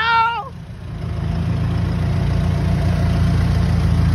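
A 2019 Toyota Revo 2.4 four-door pickup engine rumbling steadily near and loud, its low drone rising slightly and holding, after a brief high warble at the start.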